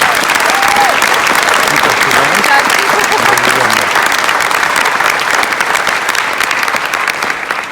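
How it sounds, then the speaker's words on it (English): Loud, continuous applause from a large crowd at a barista competition final, a thick roar of clapping that stays strong and even throughout, with a few faint voices mixed in. "So a huge round of applause for every single one"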